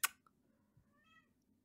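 A cat gives one short, thin meow after a quick sharp click, close by and fairly quiet against near silence.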